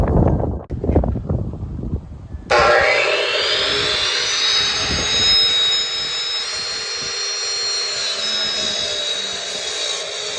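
A power tool bites into a block of alabaster stone to cut it in half. After a few knocks it settles into a loud, steady, high-pitched grinding whine that runs on close and unbroken.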